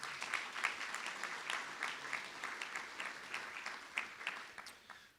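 Audience applause at an award ceremony for Kansas master teachers, a sustained dense clapping from a large crowd in a hall, steady then tapering off.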